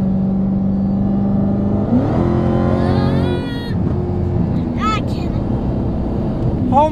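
A car revs and accelerates hard during a street race among supercars in Miami, its engine note rising in pitch across several seconds, loud and close, while people talk over the roar.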